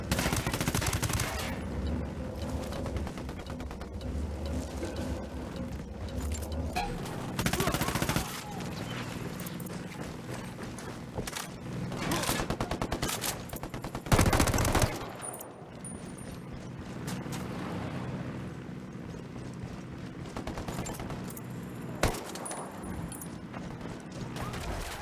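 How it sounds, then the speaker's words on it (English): Rifle gunfire in the video game Ghost Recon Wildlands: bursts of loud shots and rapid volleys over a busy, dense background, with heavy impacts around the middle, and voices faintly present at times. "I'm opening fire on these shitheads."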